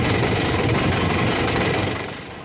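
A drill spinning a rope brush fast inside an air duct, at about 1700 RPM, gives a steady loud whirring, buzzing drone with rapid rattling of the ropes against the duct walls, fading slightly near the end.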